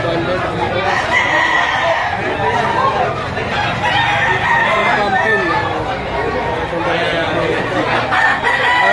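Roosters crow repeatedly amid a busy yard of clucking chickens at a poultry auction in Lipa, with people chattering in the background throughout.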